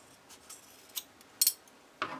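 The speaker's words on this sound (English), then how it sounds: "Cut away the extra." Scissors snip at the fabric of a cockatiel plushie in a few sparse, sharp cuts, faint between quiet pauses, with a crisp metallic clip near the end.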